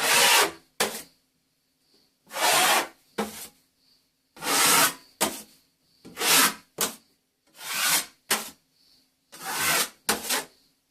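A paint stripper scraper spreads base coat compound across a bathroom wet area join in rhythmic strokes, each long rasping scrape followed by a short one, close and distinct with silent gaps between.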